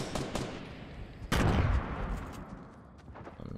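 Rapid gunfire in Fortnite Battle Royale, with scattered shots followed by a loud burst of fire that rolls off into echoing pops and distant shots under a busy game background.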